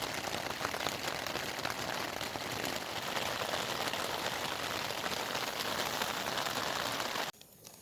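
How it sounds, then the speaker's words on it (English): Steady rain falls at Yellowstone National Park after a storm, a constant dense patter close by that keeps an even level for several seconds and then cuts off suddenly near the end. "Rain finally quit."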